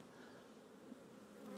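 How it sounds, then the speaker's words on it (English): Dense buzzing of many honeybees inside a hive box, a steady low hum with a faint, even drone and no voices. "So many bees in this box, lovely."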